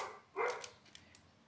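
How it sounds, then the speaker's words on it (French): A single neighbour's dog bark sounds at a distance, short and faint against a quiet room, followed by a few soft clicks. "Là, c'est le chien, mais c'est le chien de mes voisins."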